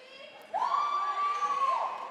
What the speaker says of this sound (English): her teammates on the sideline cheering her on